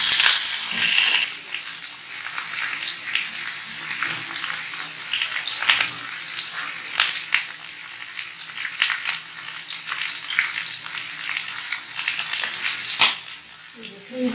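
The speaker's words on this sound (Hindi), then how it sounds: "ये 2 टेबलस्पून हमने ऑयल लिया है और इस पे हमने इनको फ्राई करना है हल्का हल्का सा।" Chicken pieces frying in about two tablespoons of oil, a loud continuous sizzle with crackling pops and occasional scraping stirs throughout.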